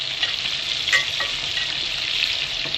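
Spices fry in very hot oil for chicken karahi, a dense steady sizzle with a few sharper crackles and stirring scrapes, close and continuous with no talking.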